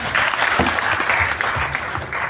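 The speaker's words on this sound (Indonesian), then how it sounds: "Tepuk tangan untuk Abu Japi." A hall audience at an installation ceremony for Abujapi's East Java officers breaks into brisk, continuous clapping, close and evenly loud, with a few heavier hand strikes standing out.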